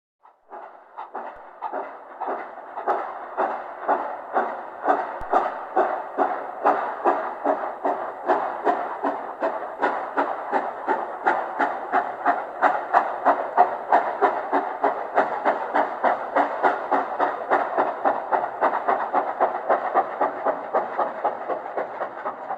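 A steam locomotive puffs along the track in a steady, quickening rhythm of chuffs that begins softly and grows louder, with no voices over it.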